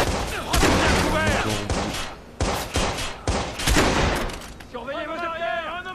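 Rapid bursts of gunfire in a Watch Dogs shootout, loud sharp cracks overlapping in quick succession with a brief lull, game voices shouting and a player commenting over the fire.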